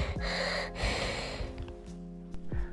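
A voice imitates a monster's ragged breathing with harsh, close snorting inhales and gasps in a few uneven bursts, ending in quieter rasping breaths.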